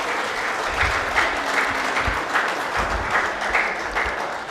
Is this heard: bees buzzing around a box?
no